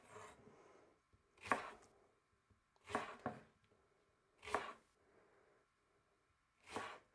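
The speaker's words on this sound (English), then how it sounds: "So we'll cut that on an angle and have a few strips just like that." A kitchen knife slices food into angled strips on a board, giving four or five soft, evenly spaced chops that sound quiet and close.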